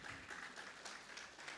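Church audience applause, a steady wash of many hands clapping, moderately loud and continuous throughout.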